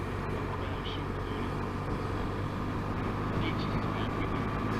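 A car drives through a tunnel on a Scottish road tour, its engine giving a steady loud roar that booms against the tunnel walls, with people talking over it.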